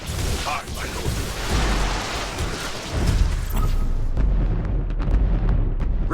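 Mines detonating in a space battle in Battlefleet Gothic Armada 2, heard as a long, loud rumbling blast with deep booming bass and crackling debris rolling on for several seconds.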